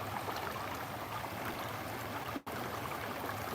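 Quiet creek water flowing steadily with a soft continuous rush and trickle, heard alone outdoors, broken by a momentary dropout near the end.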